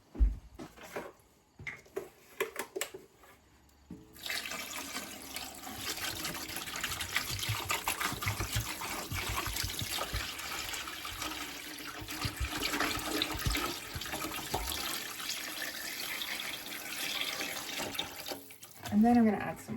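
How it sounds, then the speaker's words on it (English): Water gushes steadily from a tap onto beef bones and peppercorns for homemade bone broth, a loud, sustained rushing fill lasting many seconds, with a voice talking briefly at the start. "And then I'm going to add some water."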